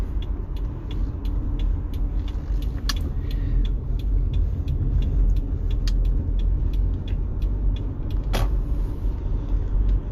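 A Subaru Forester with a CVT cruises along the road, giving a loud, steady low rumble of engine and tyre noise inside the cabin, with occasional small clicks and creaks and no talking.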